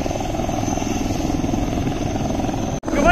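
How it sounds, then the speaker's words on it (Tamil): Helicopter flying close by near a lighthouse at an expo in Chennai, a steady, loud rotor chop and engine drone that briefly cuts out near the end before resuming. "ஹெலிகாப்டர் ரொம்ப பக்கத்துல இருக்குல்ல."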